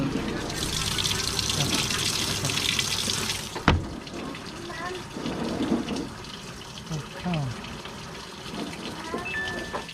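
A Samsung washing machine with a faulty water level pressure sensor has water gushing and splashing close by while its drain pump runs, with a sudden thump partway through and a voice at times.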